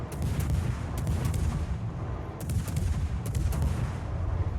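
Naval guns fire in the World of Warships game from the destroyer Kitakaze: a dense, continuous roll of booming salvos with sharp cracking reports at a rapid, uneven rhythm, loud and close throughout.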